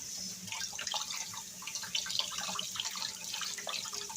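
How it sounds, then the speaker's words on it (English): Canned beans being rinsed under running tap water in a sink, a steady close splash with gurgling and trickling throughout, no voices. "What you do is rinse them really well, get all the salt off of it"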